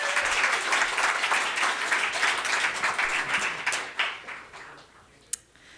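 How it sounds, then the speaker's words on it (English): Audience applause at a storytelling show, a dense steady wash of many hands clapping that fades out toward the end, with one sharp louder clap near the close. "another round of applause for Karen"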